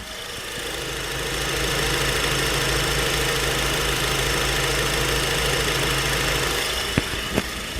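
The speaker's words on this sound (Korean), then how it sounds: "바로 엔진음 들려드리도록 하겠습니다" A Honda Accord engine starts and settles into a steady, even idle with a low hum, followed by two sharp clicks near the end.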